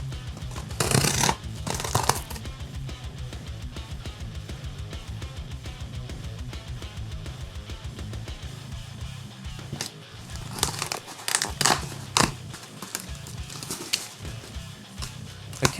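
Scissors snip and slice through a product box, giving a rapid run of close crisp cuts, then crinkling packaging and a few sharp rustles and clacks near the end.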